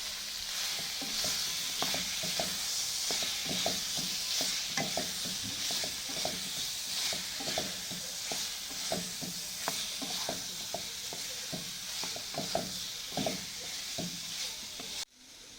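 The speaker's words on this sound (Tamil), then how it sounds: "நம்ம வேக வச்சு வடித்து வச்சுருக்கா வாழைக்காய் அதில் போட்டு நம்ம கலந்து எடுத்துக்கலாம்" Boiled, drained plantain stirred into a frying masala in a pan, steady close sizzling with a regular rhythm of scraping stirring strokes throughout, alone without talk.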